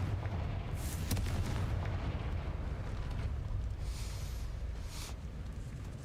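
A Confringo blasting-spell explosion in a Hogwarts video game, heard as a deep, sustained roar with a couple of sharper bursts rising out of the rumble.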